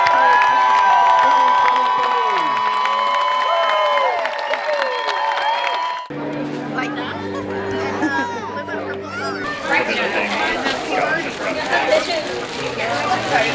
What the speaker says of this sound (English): very loud round of applause.